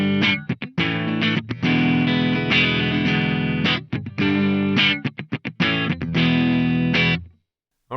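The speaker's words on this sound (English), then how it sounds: "It's the reverb which is giving us that nice kind of whooshy thing on there." Distorted electric guitar through a Mooer GE300 Lite processor with spring reverb, playing choppy chords and riffs in bursts, each note trailing a wash of reverb before cutting to silence at the end.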